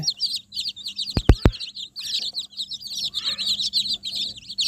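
Young native chicks peep rapidly and continuously in a brooding house, a dense high chorus of chirps close by, broken by a couple of sharp knocks near the start.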